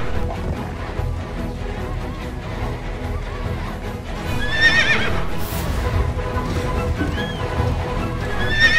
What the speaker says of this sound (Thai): เดี๋ยวเราเอาม้ามาจอดกันตรงนี้ครับ